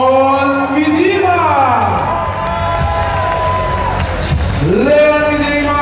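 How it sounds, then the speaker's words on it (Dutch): Arena crowd at a fight event cheers and whoops for a fighter being introduced, a loud continuous roar of voices with shouts rising and falling under an announcer's booming voice. "Maak een hartelijk applaus voor"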